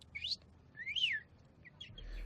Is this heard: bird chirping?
yes